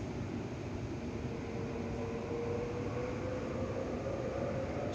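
Steady low rumble of a Waratah series passenger train running along the tracks between Wynyard and Redfern, constant and moderately loud, with a faint hum and no voices.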